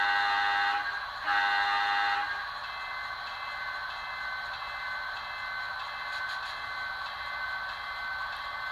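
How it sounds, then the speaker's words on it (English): A model train locomotive's horn blows as it leaves the station: a steady multi-tone blast, briefly broken and resumed, over a continuous hum from the engine that carries on after the horn stops. "So we're going to blow our horn and leave the station."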